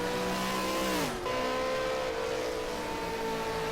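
A race car in a team racing event pulls away, its engine note loud and sustained, dropping briefly in pitch as it shifts and then holding a steady high drone with no talk.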